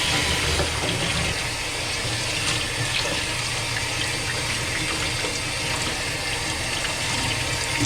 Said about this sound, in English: So let's go wash my hands real quick.